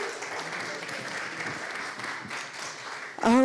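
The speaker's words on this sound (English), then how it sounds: "Big round of applause for Greg," Steady applause from an audience at the 2024 Latin Living Legends Awards, honoring an event organizer; dense even clapping fills the room, cut off at the end by a loud voice speaking up close.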